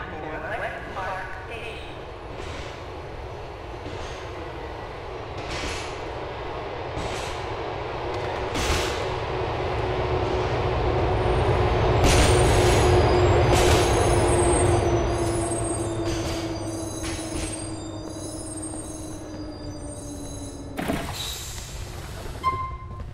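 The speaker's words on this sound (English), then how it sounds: "The train approaches Elizabeth Beach, bound for West Park" A subway train in Grand Theft Auto IV rumbles and rises in loudness as it approaches a station, with a falling tone and brakes easing toward the end, while a voice speaks over it.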